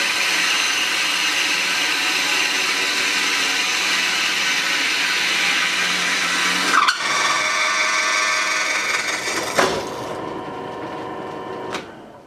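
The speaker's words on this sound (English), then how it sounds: "Now, let's carefully drill into the wood, and the dowel just drops out of the plug cutter." A drill press fitted with a plug cutter bores into wood with a steady, loud whirring drone. The tone shifts briefly twice near the end as the cut finishes and the dowel comes free.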